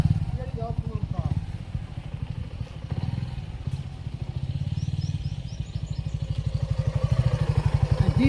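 A motorcycle engine running at moderate, steady throttle, its loud, close, rhythmic putter holding even throughout with slight swells, while someone talks over it.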